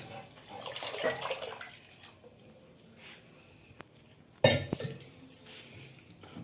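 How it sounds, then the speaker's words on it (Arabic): A litre of water splashes and pours into a pot of rice for rice pudding, with light metallic clinks and a sudden louder gush partway through, fairly quiet overall. "بنضيف لتر مية على الرز"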